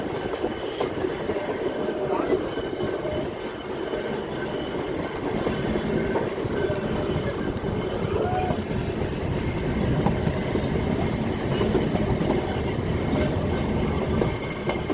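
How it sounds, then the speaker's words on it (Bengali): Ooty toy train rolling through a pine forest, with a steady loud rumble and wheel clatter that runs unbroken from start to end. No voices are heard. "ট্রেন আপন গতিতে ছুটে চলেছে পাইন গাছের জঙ্গলের মধ্যে দিয়ে"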